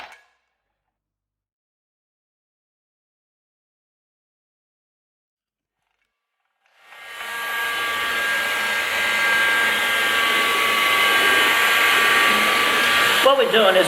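A heat gun blows hot air onto the paint of a wheel to soften it, starting abruptly after several seconds of silence and roaring steadily and loudly to the end with a faint whine.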